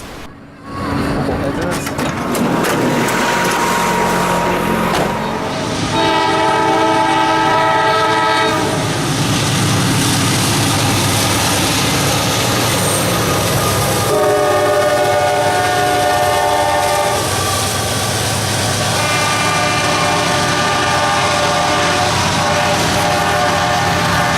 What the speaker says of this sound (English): K820, a northbound phosphate train with jumbo-covered hoppers from Mulberry to Ansonville